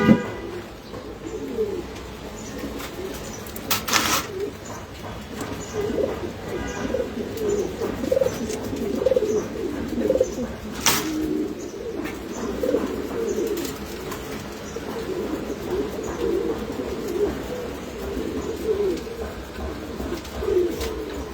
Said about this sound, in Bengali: নীলি কবুতর দুটো বাচ্চা সহ